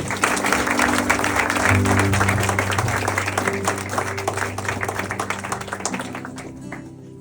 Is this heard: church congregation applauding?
yes